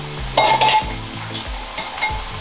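Rice and beef added to vegetables in a hot pan, with loud sizzling frying and a few clattering stirs of a utensil against the pan, nearby with no talking.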